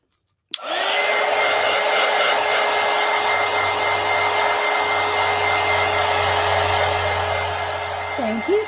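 Heat tool or hair-dryer-style blower drying a mixed media poster book page, switching on with a click and then roaring steadily and loudly close by for the whole stretch, with no talking.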